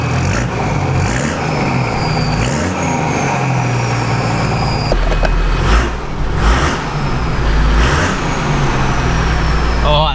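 A Toyota Landcruiser's 1HDT turbo diesel engine runs through a 3-inch straight-piped exhaust, giving a loud, deep, truck-like rumble with rises in revs and a thin turbo whistle over it.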